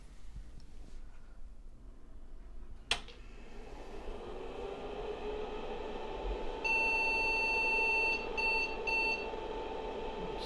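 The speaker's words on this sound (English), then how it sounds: "Still beeping like it has an error." An IBM 5150 computer gives a sharp click, then a steady electronic hum, followed by a run of high, repeated error-code beeps in a quick pattern, with no talking.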